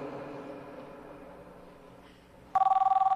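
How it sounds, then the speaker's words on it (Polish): A telephone suddenly starts ringing during a wedding ceremony, a loud rapid trilling bell pulsing evenly after a quiet murmur of room sound, ringing on to the end. "Wyłącz ten cholerny telefon."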